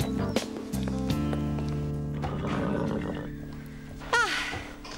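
A horse neighs loudly among other whinnies over a bed of music, with a sharp, shrill call near the end; a short dramatic scene in an animated series.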